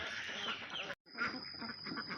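Ducks on a holiday duck farm quacking in a noisy, overlapping flock, loud and close, with a brief silent break midway before the calls resume alongside a thin steady whine.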